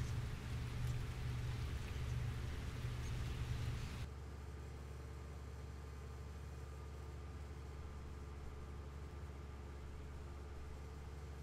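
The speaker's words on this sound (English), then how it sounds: "The rain continues to hurtle from the heavens." Rain falls steadily in the video game Calvino Noir as a soft, constant wash of noise with a low hum underneath, louder for the first few seconds and then settling to a quieter level.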